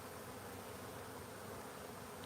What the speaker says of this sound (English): This is a wild hive from somewhere.